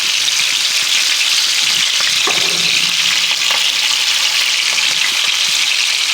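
Pork sausage patties sizzle loudly in a hot pan for burgers, a dense, continuous frying hiss close by, with a few soft scrapes and knocks under it and no talk.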